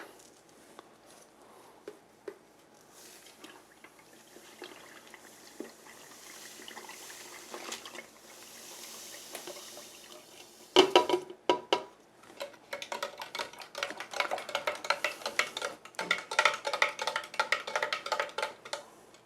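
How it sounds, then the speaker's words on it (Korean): Sugar, about 500 ml, being stirred into roughly 600 ml of fresh ginger juice in a container, first quiet, then a busy run of scraping, clinking and trickling sounds close by. "여기다가 설탕 500ml를 섞어줍니다"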